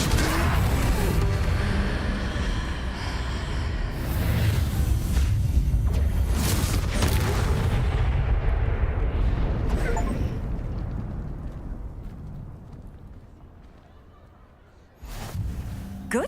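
A Confringo blasting spell explodes during a troll fight in a Harry Potter game, a loud sustained roaring boom that rumbles for several seconds, fades away, then gives way to another sharp burst.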